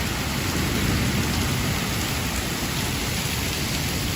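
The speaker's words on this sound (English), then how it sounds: "Wow, check out that lightning storm." Night lightning storm over Manhattan streets, heavy rain pouring in a loud continuous hiss with low thunder rumbling underneath throughout.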